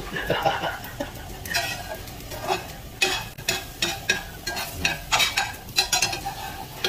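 An omelette fries in a pan over the heat, giving a steady crackling sizzle broken by repeated scraping and stirring strokes. A voice talks faintly in the background.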